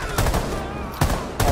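Gunfire in the video game Rainbow Six Siege, three sharp loud shots in quick succession about half a second apart, close and punchy, no talking.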